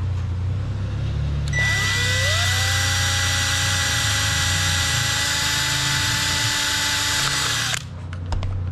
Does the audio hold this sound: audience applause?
no